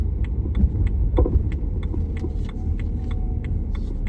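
Inside a car: a steady low engine and road rumble fills the cabin, with soft regular ticking over it and no talking.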